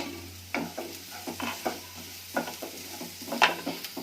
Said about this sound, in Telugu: ఉల్లిపాయ ముక్కలన్నీ వేగిపోయినాయి చూడండి.